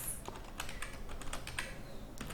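Fingers tap out C code on a computer keyboard in a steady, quiet patter of individual key clicks, close by with faint room hiss and no talking.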